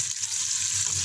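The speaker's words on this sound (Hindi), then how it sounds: "अब हमारा ऑयल गर्म हो गया। अब इसमें प्याज शामिल करते हैं।" Onions hit hot oil in a pan with a brief, steady hiss of sizzling, close and fairly loud, with no voices over it.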